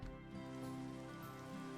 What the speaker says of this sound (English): Did it start raining the second I came out of the cave?